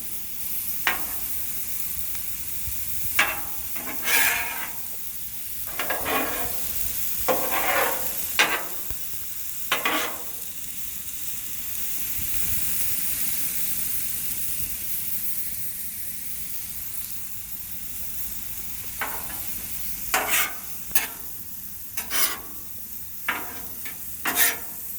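Potatoes fry on a hot Blackstone 36 Pro griddle with a steady sizzle, broken by repeated sharp scraping bursts as a spatula stirs and flips them, and no talk is heard.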